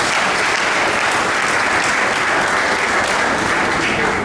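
A large audience at the draw ceremony for the 26th Africa Cup of Nations in handball applauds in a dense, continuous roar of clapping that stays loud and even throughout, with no voice rising above it.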